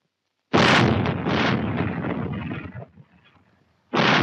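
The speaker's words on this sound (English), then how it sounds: "These are the biggest of the Navy's rapid-fire guns, and they're almost completely automatic in operation." A US Navy 8-inch/55 rapid-fire naval gun fires a heavy, loud blast that rumbles and fades over about two seconds, followed by the sharp onset of a second shot.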